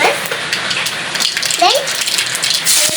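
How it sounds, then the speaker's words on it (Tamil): Mustard seeds crackle and spit in hot oil in a pan while upma is being cooked, giving a dense, steady sizzling hiss that carries on without a break. Brief faint voice or clatter sounds come through over it. "கொஞ்சம் கடுகு போட்டுக்கோங்க."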